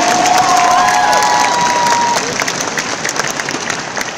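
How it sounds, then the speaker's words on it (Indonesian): Loud audience applause with cheering and whistles at a Kangen Water celebration event in Indonesia, a dense clapping wash that gradually thins out. "Sekarang mohon aplaus yang luar biasa untuk Bapak Libertus Peter Cech"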